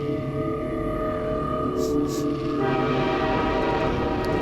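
A steady, heavy rumble and clatter of a train ride in the video game Half-Life 2 Episode One, continuous and droning with a brief higher tone partway through, loud and enveloping.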